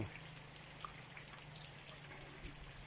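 Heavy rain falls in Xiangkhouang, a dense, even hiss of water that stays steady throughout without talk.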